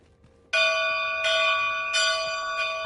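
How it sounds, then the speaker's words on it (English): A bell rung in the Dragon's Dogma 2 video game, three loud ringing strikes about 0.7 seconds apart, each leaving a bright, sustained metallic tone with rich overtones that decays slowly between blows. "All that remains is to ring the bell."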